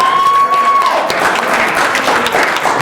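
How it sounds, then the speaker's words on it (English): Applause from an audience at an anime convention wrestling show, 2019: a dense, steady clatter of many clapping hands that swells after the first second and carries on loudly to the end, with a faint tone fading out under the start. "Let's have another round of applause for the military-industrial complex."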